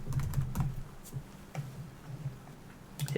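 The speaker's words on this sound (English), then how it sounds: "I'm just going to type in this is my story" Quick, light keystrokes on a computer keyboard, entering a short line of text: a near, irregular burst of clicks that slows toward the end, with no talk.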